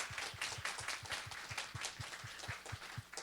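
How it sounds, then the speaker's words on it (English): A crowd applauds steadily, with many overlapping claps forming a continuous, fairly soft patter throughout. "Can we get another round of applause for our presenters?"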